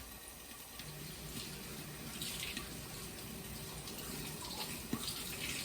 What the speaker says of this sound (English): make sure you rinse your peppers with some nice cool water